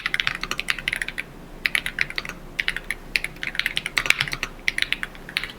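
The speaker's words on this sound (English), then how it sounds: "It offers a really, really enjoyable typing experience. Just so you can kind of hear some of the sounds." Typing on a mechanical keyboard fitted with Murad switches, crisp clicky keystrokes arriving in quick bursts separated by short pauses, close and clear with no talking.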